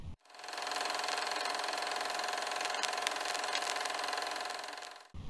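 Rocket engine in Kerbal Space Program burning steadily during a climb, a continuous buzzing drone that fades in, holds level with faint rattles, then cuts off abruptly near the end.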